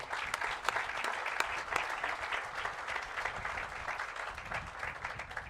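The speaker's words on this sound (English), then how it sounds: "I would ask that we give them a round of applause as well" Audience at a university engineering school building event breaks into steady, moderately distant applause, a dense wash of clapping with a few sharper nearby claps.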